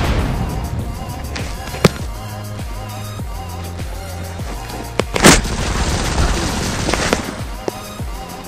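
Gunfire from Modern Combat 5 multiplayer, a Free For All match on the Streets map, with several sharp shots and a louder burst near the middle over a steady game soundtrack with a thumping beat.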